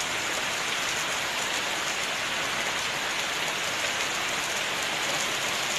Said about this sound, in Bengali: এখন বৃষ্টিটা একটু বেশ জোরেই আছে,